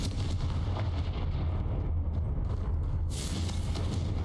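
A Confringo explosive spell cast in Hogwarts Legacy, with a dense roaring blast and crackling rumble filling the whole stretch and a bright hissing burst near the end, no talk.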